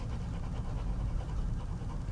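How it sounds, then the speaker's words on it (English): Rapid, steady panting breaths during a voice-lesson breathing exercise, quick even inhales and exhales close to the microphone. "Speed the inhalation and exhalation process up so you're panting."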